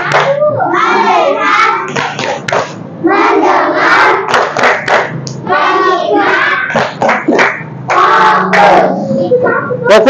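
Classroom of children doing a rhythmic chant-and-clap routine, sharp group claps punctuating loud chanted voices in short patterned bursts, close and energetic.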